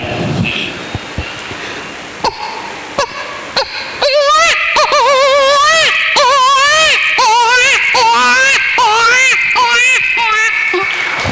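A voice imitates a baby boy crying from hunger, rising into a loud, continuous wailing cry with wavering pitch after a few short breathy sobs, close and alone.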